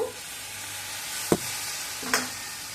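Frying pan of Bengali green papaya and potato curry on low heat, with water sprinkled in: a steady soft sizzle and hiss, broken by two brief sharp utensil knocks, close and alone.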